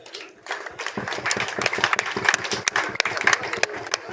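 Applause for the partner organisation Compassion at a district awards ceremony: clapping starts after a short pause, swells into a dense, lively burst with sharp individual claps, and a few voices mix in.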